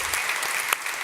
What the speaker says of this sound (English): So please give a big round of applause for the Chief Consultant at Digitaliseringsstyrelsen in Denmark, Michael Bang-Kjeldgaard